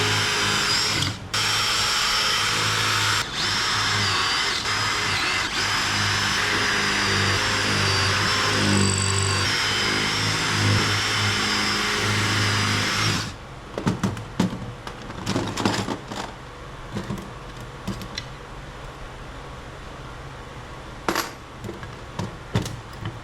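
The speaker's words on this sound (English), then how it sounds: "The only way we're going to get them is to drill them out." A power drill whines loudly and continuously for several seconds drilling out rivets on a large switch, then stops, followed by scattered clanks and taps of metal being handled.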